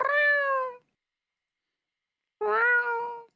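A cat meows twice, two long harmonic calls separated by a couple of seconds of silence, close and clear with no talk over them.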